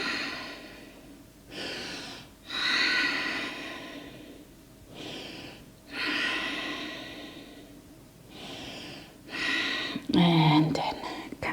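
Deep breathing during a posture-focused yoga session, with several long, airy breaths in and out close to the mic, steady and rhythmic with short quiet gaps between them, ending in a brief sigh.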